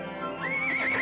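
A horse on a training track gives a loud, shaky whinny that rises and wavers, near and clear, with no talking over it.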